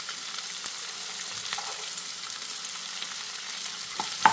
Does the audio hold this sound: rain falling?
no